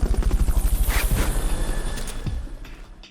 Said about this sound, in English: Fulton recovered a helicopter.